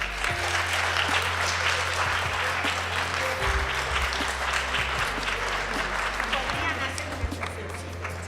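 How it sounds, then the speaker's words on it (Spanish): Audience at a conference on the Jewish gauchos applauding a speaker, sustained dense clapping over a low steady hum, even and moderately loud for the full length, with a few faint voices underneath. "un gran aplauso para Esther"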